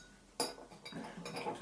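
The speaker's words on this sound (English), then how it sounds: "I suggest that you stir it up with the spoon first" A spoon stirs sugar into water in a glass or cup, giving a sharp metallic clink followed by a few softer, irregular scraping clinks, close and quiet, with no talking.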